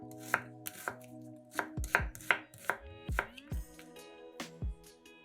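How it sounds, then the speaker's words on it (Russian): A knife slices two medium onions into half rings on a cutting board, giving crisp, close, irregular chops in quick bursts, alone and without talk. "2 луковицы среднего размера нарезаем полукольцами."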